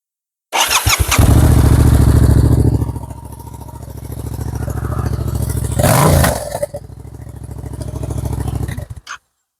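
A Yamaha MT-07 motorcycle starts up after a brief crank and settles into a loud, close idle, with a short rev swelling midway before the engine is cut off.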